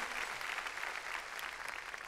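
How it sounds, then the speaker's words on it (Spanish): Church congregation clapping loudly for the Lord, a dense, steady burst of applause that fills the room. "démosle palmas fuertes a nuestro Señor"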